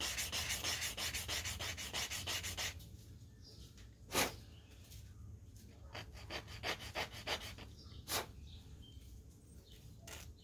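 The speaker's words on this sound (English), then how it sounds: "sand my angle." Hand sanding of headstock binding on walnut veneer, rapid rhythmic scratchy strokes close to the microphone, easing into slower intermittent rubs with a few sharp knocks.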